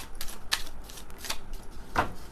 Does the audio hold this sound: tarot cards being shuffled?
yes